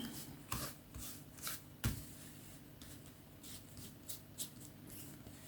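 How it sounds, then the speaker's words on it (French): Tarot cards being spread out across a table, a series of soft, brisk sliding and flicking sounds at irregular intervals, close and quiet, with no talking. "Alors, je vais étaler les cartes."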